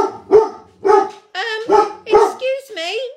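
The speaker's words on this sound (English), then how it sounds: "It doesn't matter if you have noisy dogs." A noisy dog barks in a home, several sharp separate barks in an uneven rhythm, loud and close, with no talk over them.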